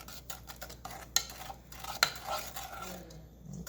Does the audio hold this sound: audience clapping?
no